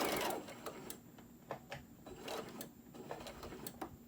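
A sewing machine stitching a fabric cell phone rice bag, a quiet close mechanical whir with rapid regular needle ticks running steadily throughout.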